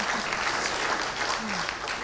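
Sustained audience applause fills a university amphitheatre at the Université de Pau et des Pays de l'Adour 50th anniversary ceremony, many hands clapping steadily with a faint voice or two beneath.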